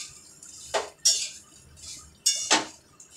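Rice being stirred with ghee in a pot for jeera rice, with a few distinct metal spoon scrapes and clinks against the pot, close and clear, in short separate strokes.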